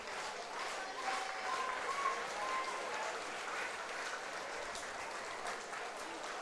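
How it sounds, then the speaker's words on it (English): Baseball fans at Labatt Park cheering on the home team in the top of the ninth inning, a steady wash of distant crowd applause and cheering that holds at an even level throughout. "Fans here at Labatt trying to cheer on the Majors in the top of the 9th inning."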